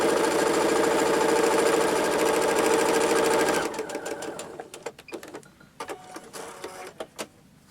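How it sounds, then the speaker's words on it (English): A sewing machine stitches quilt pieces together, running loud and steady for several seconds with a fast mechanical whir, then stopping, after which fabric rustles and a few small clicks and taps follow close by. "now I'm going to sew the shorter background piece."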